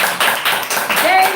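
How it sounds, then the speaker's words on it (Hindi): A church congregation claps together in rhythmic bursts, close and loud, while a pastor keeps speaking over the applause. "आइए खूबसूरत तालियों के साथ दोनों हाथ मिलाकर परमेश्वर"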